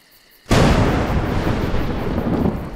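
Thunder in the video game A Juggler's Tale: a sudden loud crack after a quiet moment, rolling into a sustained, dense rumble that lingers at high level to the end.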